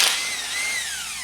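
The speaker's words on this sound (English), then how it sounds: "We're going to try this Matco gun, see how it does." A Matco impact gun runs during an engine teardown on a 6.0 Powerstroke, giving a close, loud, high-pitched whirring burst whose pitch sweeps and falls over about a second.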